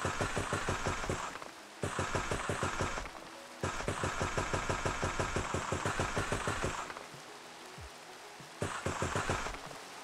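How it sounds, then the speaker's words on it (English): Rain falling in the video game Minecraft, a steady hiss broken by repeated rhythmic thumping bursts that drop out and return, fairly quiet with no talk. "Even though it is raining,"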